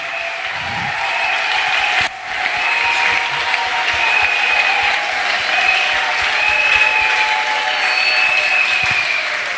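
A church audience breaks into long, steady applause and cheering to welcome a pastor to the altar, a broad wash of clapping with a faint sustained tone running beneath and a brief knock partway through.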